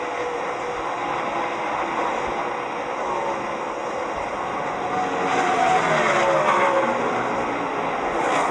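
NASCAR stock cars racing the final lap at Atlanta, with a steady, loud engine roar from the pack that swells toward the end as cars pass close by.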